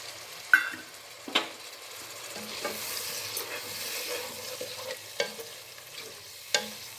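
Yogurt being stirred into cooking vegetables and tomatoes for a vegetable biryani, with a gentle sizzle under sharp spoon knocks against the pot that recur every second or so, up close.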